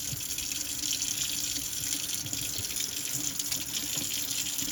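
A kitchen tap runs steadily into a single sink while a sponge is rinsed under it, giving a constant close hiss and splash with no talk.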